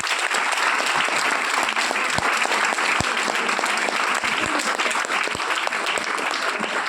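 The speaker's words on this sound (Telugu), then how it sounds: "అందరూ ఒకసారి గట్టిగా క్లాప్స్ కొట్టాలనుకుంటున్నాను" A Teacher's Day audience at BITS claps loudly and steadily, a thick wash of many hands with a few sharper individual claps standing out, continuous for several seconds.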